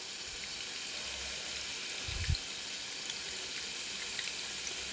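Cabbage and noodle pakoras fry in hot oil, a steady, even sizzling hiss throughout with one brief low thump midway.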